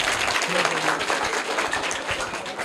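Audience applause at a school event comparing private and government schooling, a dense steady patter of many hands clapping throughout, with faint voices mixed in underneath.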